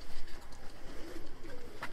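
Abdal Arab tumbler pigeons coo softly in a Konya loft full of coops, low murmuring calls that overlap with a faint bright chirp near the end.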